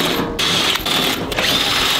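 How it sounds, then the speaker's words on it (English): Power tool unscrewing the cover plate on a 48-inch Exmark Metro mower deck, a steady close whirring drone with brief dips in pitch as fasteners loosen. "Always use power tools whenever possible."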